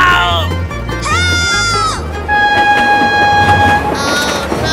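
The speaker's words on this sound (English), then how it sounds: "Oh my god, train!" A toy train sounds a series of whistle-like tones and electronic jingles, with a steady low rumble underneath and short bleating-like calls between them.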